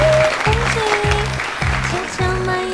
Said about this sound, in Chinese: 让我们用更热烈的掌声有请她上台发言